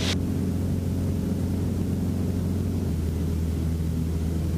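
A small airplane flying an airport traffic pattern gives off a steady, loud, unbroken engine drone heard close up and alone.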